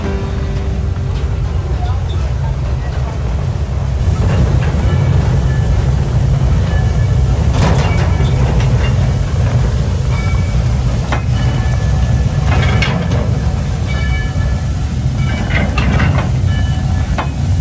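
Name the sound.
train on rails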